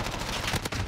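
Bursts of gunfire from the video game Modern Warfare, a loud dense volley lasting under a second with no voice over it.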